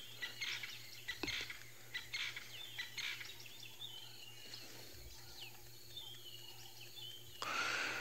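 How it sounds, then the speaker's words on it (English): Wild bird at a safari live-stream camera site calls in repeated bright chirps and short phrases, fairly faint over a steady hum, with insects buzzing softly in the background. "the bird that you can hear now"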